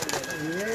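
Prized pigeons near a canal or river in Chunian give a short, soft, rolling coo, fairly faint, over a light background murmur and brief vocal sound.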